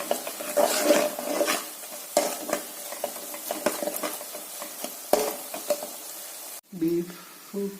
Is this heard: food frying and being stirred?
yes